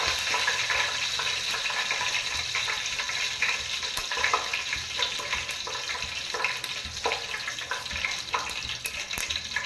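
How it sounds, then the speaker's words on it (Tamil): Mustard seeds frying in hot oil reused from making vadai, with a steady dense sizzle and crackle close by and scattered sharper pops throughout; no one speaks. "அந்த எண்ணெய் இப்பயே உடனே பயன்படுத்திக்கலான்னு சூடாகிடுச்சு கடுகு போட்டுக்கலாம்"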